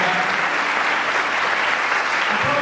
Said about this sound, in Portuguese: Por isso eu gostaria que nós aplaudíssemos